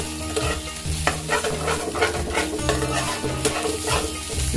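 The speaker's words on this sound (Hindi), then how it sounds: "अब इसमें अदरक को हम डाल के, अदरक का पेस्ट डाल कर अच्छी तरीके से इसको भून लेते हैं।" Ginger paste fries in hot ghee while being stirred, a loud continuous sizzle with rhythmic scraping of a spoon against the pan, close and without talk.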